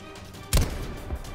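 Gunfire in the battle-royale game Call of Duty Black Ops 4 Blackout: one sharp, heavy shot rings out, then a weaker second report follows, both somewhat distant.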